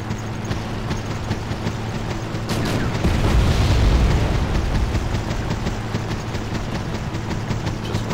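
Artillery shells hit T-64 tanks in Wargame: European Escalation, a deep, loud boom swelling about three seconds in over constant battlefield rumble and rapid clatter.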